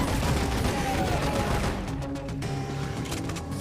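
Gunfire from many shooters in a video game, a dense steady fusillade of overlapping shots and distant booms that rattles on without pause, fairly loud throughout.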